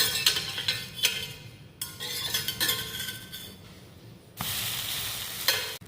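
A dosa cooks without oil on a hot AMC pan, a steady sizzle carrying scrapes and metallic clinks as the spatula works under it and turns it, with sharp changes in the frying hiss as it flips.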